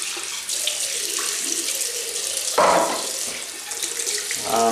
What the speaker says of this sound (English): run warm water into the brush and squeeze out.